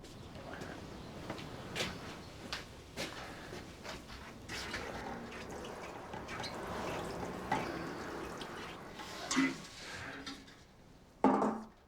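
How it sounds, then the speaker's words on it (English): Seed trays being watered in a greenhouse, with faint patters and drips of water falling on soil and occasional soft knocks of trays. The sound stays quiet and close throughout. "Okay, next stage is to take these to the greenhouse and water them."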